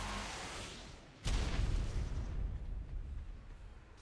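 In the video game Ark Survival Evolved, a sudden loud explosion follows a quieter rumbling lead-in, its boom decaying into a long rolling, crackling tail.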